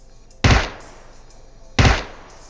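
Two sharp rifle gunshots from PUBG crack out about a second and a half apart, each loud, punchy and followed by a short decaying tail over quiet background.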